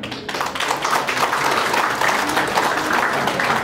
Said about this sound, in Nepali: ताली उहाँ उठेर आएदेखि बसिन्जेलसम्म कन्टिन्यू हुनुपर्छ तपाईँको ताली